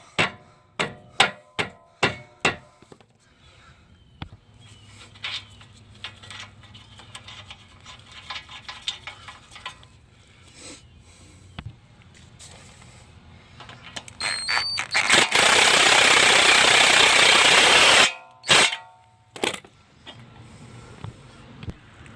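A ball joint hammered into the front control arm of a 2017 Nissan Rogue, with a quick run of sharp metallic blows, a long harsh squealing burst, then more spaced strikes nearby.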